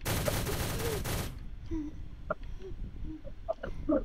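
Dense, loud volley of gunfire in the egg-themed shooter Shell Shockers filling the first second or so, then cutting off to a quieter stretch of scattered small clicks and short thuds.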